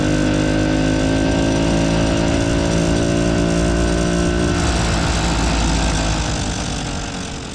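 A small two-stroke Solex moped engine runs steadily with a buzzy, lawnmower-like drone, close by, its pitch dropping slightly and fading near the end.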